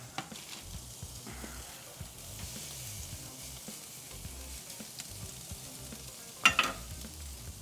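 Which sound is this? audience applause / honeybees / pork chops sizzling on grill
pork chops sizzling on grill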